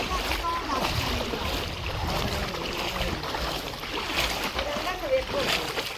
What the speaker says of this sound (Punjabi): ਇੰਨੀ ਸਪੀਡ ਤੇ ਪਾਣੀ ਆ ਰਿਹਾ ਹੈ